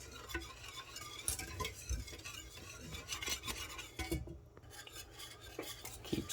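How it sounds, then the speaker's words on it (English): Cheese sauce, a cheesy béchamel for croque monsieur, is whisked steadily in a pan as it comes up to a simmer, giving continuous scraping and clinking strokes with a brief quieter pause partway through and no talking. "Keep stirring it the whole time whilst it's coming to a simmer."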